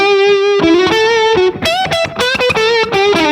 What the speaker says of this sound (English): But only the slap by itself without the reverb.